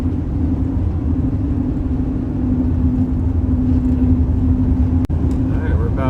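A car drives along a road through foothills near the El Paso County line, producing a steady, close engine and tire rumble with a low hum throughout and a brief sharp click near the end.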